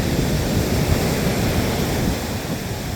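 Ocean surf at a beach on an evening with big, monster-sized waves gives a loud, continuous broadband roar of crashing water with wind mixed in, steady throughout and easing slightly near the end.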